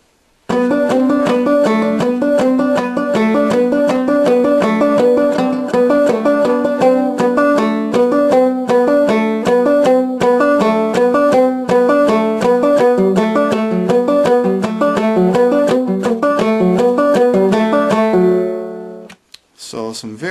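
A fretless banjo in the 1858 Rice stroke style plays a song at a quicker tempo. Brisk, continuous strummed and plucked notes sound loud and close, stop abruptly near the end, and are followed by a brief quiet pause.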